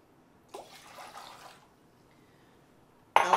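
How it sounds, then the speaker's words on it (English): Three cups of water are poured for a pickling brine, a brief splashing pour about one second long in a quiet kitchen, followed by silence and then a sudden loud clatter. "You're going to want 3 cups of water."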